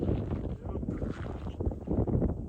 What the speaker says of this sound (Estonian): Tuul on maru.